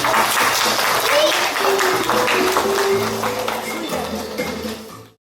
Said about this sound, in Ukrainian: Похлопайте Мішові гості наші